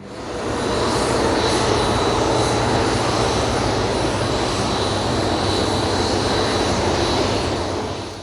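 A fixed-wing airliner lands at London's Heathrow Airport, its engines producing a loud, steady broadband roar that swells in, holds for several seconds and fades slightly at the end.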